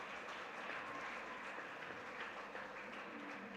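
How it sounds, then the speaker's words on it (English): An audience at the 131st All India Brahmo Conference claps steadily as a soft, continuous patter that stays even and fairly faint throughout, with no voices above it. "So clap for them."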